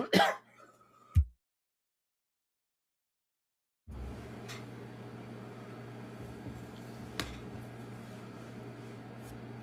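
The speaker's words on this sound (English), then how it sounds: "my coughing is killing me in the morning" A man clears his throat and coughs in a short, harsh burst at the start, then silence follows and gives way to a faint room hum with a few soft clicks.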